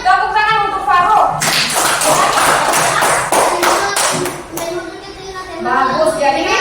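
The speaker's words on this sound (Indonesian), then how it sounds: "Tepuk tangan untuk Farouk." A classroom breaks into applause for a student: many hands clap loudly and briskly for about three seconds, with a teacher's voice talking before and after.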